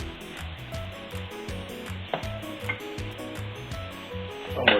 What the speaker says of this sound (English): I'm not searing the scallops all the way through because I want them to cook some in the sauce we've made over here.